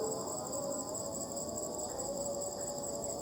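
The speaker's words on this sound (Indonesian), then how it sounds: "Serangga-serangga, jangkrik," Crickets and other insects chirp at night in a cemetery, a steady high-pitched trill with a constant drone of insect noise that holds at an even level throughout.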